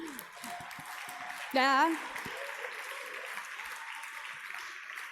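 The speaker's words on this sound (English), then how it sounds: "Give me an applause." Steady applause from a conference audience at a closing and awards session, a dense even patter of clapping running throughout with a brief spoken word and a short louder voiced burst partway through.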